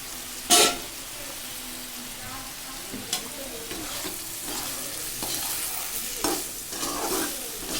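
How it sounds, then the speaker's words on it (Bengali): Okra (bhindi) frying in a pan gives a soft, steady sizzle, broken by an early sharp clatter and several scraping stirs of a spatula, with no talking. "ভেন্ডি ভাজা আমি সব ছেড়ে দিয়েছি"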